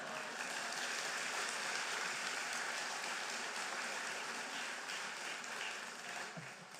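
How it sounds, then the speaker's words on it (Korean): Continuous applause from a large church congregation, a dense even wash of clapping that fades slightly toward the end. "여기서 박수"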